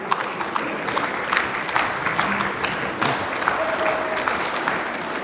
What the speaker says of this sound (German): Ich danke dir sehr für diesen freundlichen Applaus.